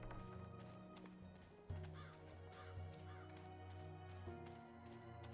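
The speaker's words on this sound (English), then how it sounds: "I heard a crow." A crow in the video game Dreamfall Chapters gives a few harsh caws over soft, steady game music, fairly faint and set a little back.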